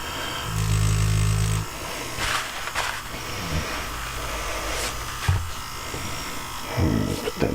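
A Neebol F5 tattoo machine buzzes in a short steady burst during tattooing, then softer intermittent buzzing and handling noises follow under a man's speech.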